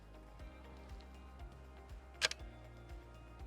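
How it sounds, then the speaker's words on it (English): A single sharp mechanical shutter click of a Bronica ETRSI medium format film camera with mirror lock-up, a brief second snap, fairly close, in an otherwise quiet setting with faint low hum. "press the shutter"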